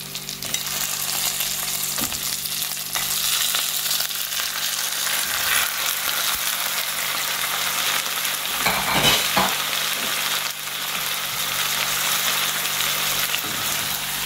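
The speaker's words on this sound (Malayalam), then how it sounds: "മട്ടൻ പീസസ് ഓരോന്നായിട്ട് ഞാൻ ഇട്ട് കൊടുക്കുകയാണ്" Mutton pieces dropped into hot masala for restaurant-style biryani set off a loud, steady sizzle and fry, with a few brief stirring scrapes and no voices.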